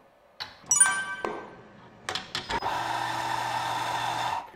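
Compak Bolt espresso grinder dispensing ground coffee: a few sharp clicks and metallic taps, then a sustained whirring motor hum that runs steadily to the end, close and moderately loud.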